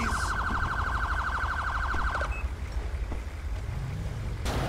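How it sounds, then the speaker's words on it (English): A police car siren in the GTA 5 video game with the LSPDFR mod sounds as a rapid, loud warbling electronic tone for about two seconds, then cuts off, leaving engine and street ambience with a brief burst near the end. "Is that my siren going off still?"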